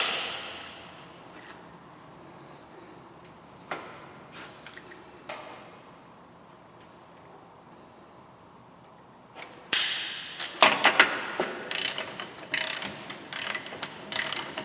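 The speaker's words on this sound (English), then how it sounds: "we're going to torque that to 207 foot-pounds. I'm just using an 1 1/16 inch socket." A torque wrench with a 1 1/16 inch socket tightens a front axle nut on a Hyundai Sonata, sounding as sparse clicks at first, then a burst of sharp ratcheting clicks near the end.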